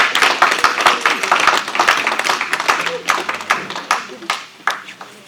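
Clapping at a funeral service for a mother in Paris, many hands beating in an irregular, fairly close rhythm through the whole stretch, with voices mixed in underneath.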